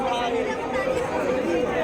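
Packed visitors at a Durga Puja pandal create a steady wash of mingled conversation close by, with one voice speaking prominently over the crowd noise.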